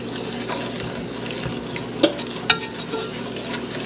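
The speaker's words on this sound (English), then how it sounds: "Go ahead and whisk your mixture together one more time." Coconut cream pie filling is whisked in a pot, a steady close scraping and swishing with two sharp metallic clinks of the whisk against the side partway through, with no voices.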